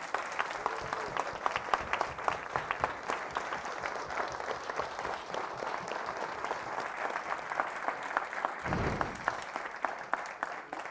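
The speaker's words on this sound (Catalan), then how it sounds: "d'entrada no estaria malament celebrar una miqueta amb aplaudiments i aquelles coses que fem" Sustained audience applause at a Girona housing-rights gathering, continuous close clapping with a brief low thump partway through.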